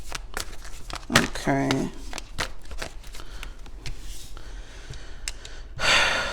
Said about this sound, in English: So let's pull some tarot cards for you.